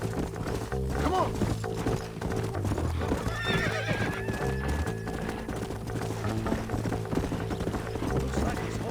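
Horse hooves clip-clopping in the video game Red Dead Redemption, a steady trotting rhythm with a whinny partway through, under game music and someone talking.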